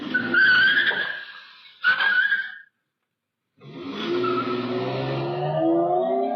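A car outside a house accelerates away after a brief stop, its engine rising with faint tire noise, cutting out for a moment, then returning as a steady fading drive-off.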